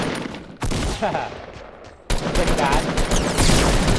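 Gunfire and explosions from the video game Fortnite burst out loudly in two sharp onsets, continuing as dense, rattling volleys while a player talks briefly over the action.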